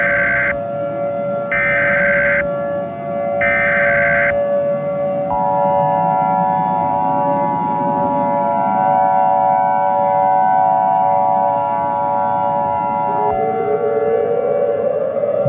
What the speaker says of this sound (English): Why are the sirens are going on?